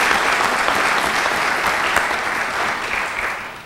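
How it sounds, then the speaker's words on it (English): Sustained, loud applause from an audience at an Orlando city commissioner's oath of office ceremony, a dense steady wash of clapping for nearly four seconds with no talk. "let's give him a round of applause"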